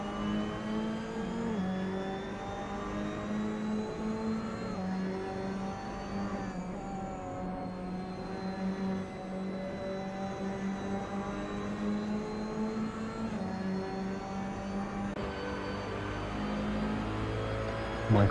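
Engine roar from TCR touring cars on a race track, a steady droning note that rises and dips with throttle and gear changes, heard continuously with no voices over it.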